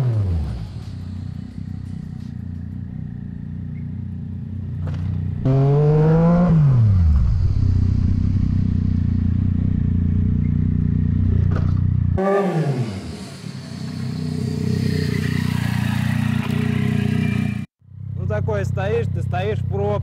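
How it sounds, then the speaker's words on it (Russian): A Yamaha MT09 motorcycle with ABS does a stoppie, its engine close and loud, revving and dropping in pitch in sharp sweeps between steadier stretches, with a sudden cut near the end. "Снимаем стоппи на АБС Yamaha MT09."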